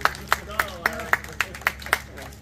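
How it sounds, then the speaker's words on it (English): A few hands clapping in a steady, evenly spaced rhythm for a big band trumpet player, sparse sharp claps from a small audience with faint background murmur. "Let's give him a round of applause."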